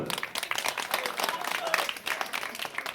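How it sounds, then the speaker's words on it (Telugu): Village audience clapping together, a steady dense patter of many hands at moderate distance, continuous for about three seconds with some voices mixed in. "అందరూ క్లాప్స్"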